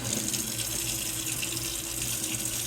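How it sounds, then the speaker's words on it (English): Running tap water streams steadily and fairly loudly into a sink while pieces of Roma tomato pulp are rinsed under it, a continuous wash of flow with no talking. "these bigger pieces of pulp, I'm going to start picking them up, rinsing them off,"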